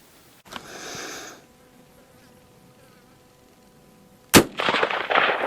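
A single sharp, loud crack from a Winchester 1894 rifle late in the clip, followed by a brief noisy tail, after a few seconds of quiet outdoor background with a faint buzzing insect.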